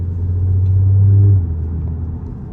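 Supercharged Audi engine accelerating, a steady low rumble that swells and holds loudly for about a second before easing back to a lower drone, heard close with no talk.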